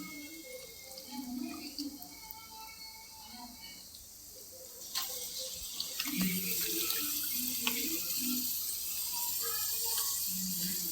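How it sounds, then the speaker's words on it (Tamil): Water trickles and splashes in a kitchen sink as washed chicken is drained for a chicken curry, quiet at first, then a fuller steady flow with scattered drips and clinks for the rest. "தண்ணியை நல்லா வடிச்சிட்டு"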